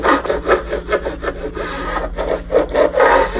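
A file rasps back and forth over the sharp metal fret ends of an Ortega mandolin in quick, rhythmic strokes, loud and close, with short pauses between bursts.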